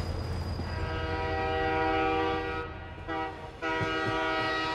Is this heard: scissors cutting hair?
no